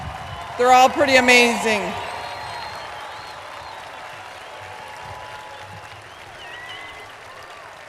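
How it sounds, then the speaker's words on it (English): Applause from the audience at a 2021 high school graduation ceremony in Penfield, New York, heard as a faint, distant patter that carries on after a voice speaks briefly over it. "go ahead, another round of applause."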